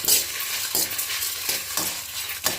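Dried red chillies fry in a little oil while being stirred, making a bright, hissing sizzle with regular scraping strokes of the spoon and no voices.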